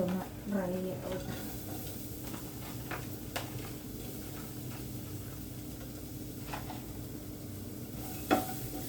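Grated coconut being dry-roasted and stirred in a pan for a Kerala lunch curry, with a soft steady sizzle under occasional scraping clinks of a spoon against the pan.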